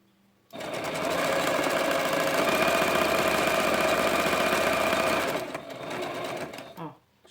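A sewing machine stitches fabric for a glasses case in a steady, close, continuous run of about five seconds, then slows into a softer, uneven patch before stopping.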